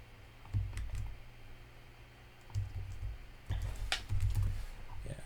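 Typing on a computer keyboard: close, irregular clusters of key clicks in several bursts over a low steady background hum.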